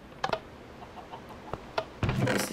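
Minecraft chickens cluck in short, faint, scattered clucks, followed by a louder burst of game noise at the end.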